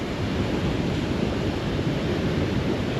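Steady roar of wind and rough, choppy ocean surf at Scotts Head, New South Wales, a dense broadband wash with buffeting across the microphone and no voices.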